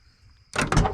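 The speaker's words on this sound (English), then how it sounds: "Doors open nice." A door on an old barn-find car swings open after a quiet pause, giving one short, loud mechanical clunk and rattle that ends the second.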